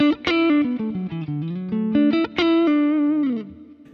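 A distorted electric guitar on the neck pickup through a Kemper's Match Club HM2 amp model plays a melodic lead line, single notes bending and sliding with a warm, rounded tone, loud and close.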